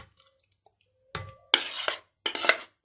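Meat goes into a bowl of shawarma marinade in three wet, clattering bursts against the bowl, close and fairly loud, after a near-silent start with a few tiny clicks.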